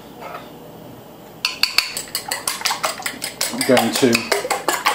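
Eggs for a cheese omelette beaten briskly in a bowl, a quick rhythmic run of utensil clinks against the side starting after a quiet opening, with a few spoken words at the start.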